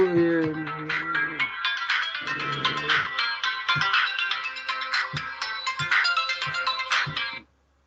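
A mobile phone ringtone plays loudly and steadily for about seven seconds, a repeating bright electronic melody with some low voice underneath at the start, then it cuts off abruptly.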